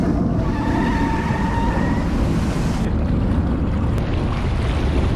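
A small Jonny Boat motors across the water, its engine a loud, steady drone with churning water noise running the whole time, heard close and with no talking.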